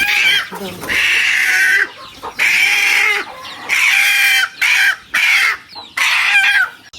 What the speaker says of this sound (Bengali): বড় মুরগি ধরতে গেছিলাম এখন বড় মুরগি কই গেছে